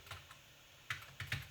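A few quiet keystrokes on a computer keyboard, one isolated tap followed by a short cluster of clicks, with a quiet room around them.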